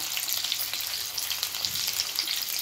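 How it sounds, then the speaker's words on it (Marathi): Six or seven garlic cloves fry in a spoonful of hot oil in a pan for tomato chutney, giving a steady, close crackling sizzle throughout with no voices. "मी 6-7 लसणाच्या पाकळ्या घेतल्यात, आता त्या टाकूया।"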